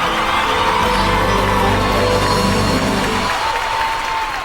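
An audience claps loudly and steadily throughout, a dense wash of applause with crowd noise and some cheering at a dance competition.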